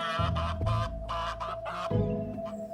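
Geese on an Edwardian farm honk in a run of loud, repeated calls, several bursts close by with short gaps between them.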